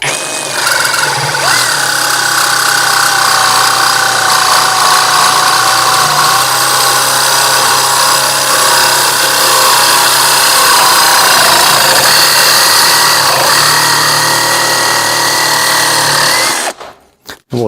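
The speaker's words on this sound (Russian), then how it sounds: "при резке металла нужно чувствовать, когда она хочет подклинить, и добавлять оборотов, чтобы не заклинило" A LYUWO LW-F20 cordless reciprocating saw cutting metal: a loud, steady buzzing rasp with wavering pitch as the speed shifts, running continuously and close up before stopping abruptly at the end.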